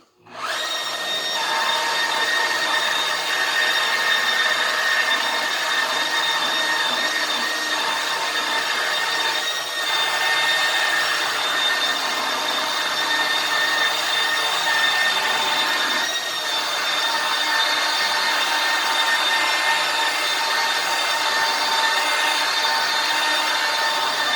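A power buffer whines steadily for the whole stretch, a loud continuous motor hum with slight dips in pitch, close by and with no voices.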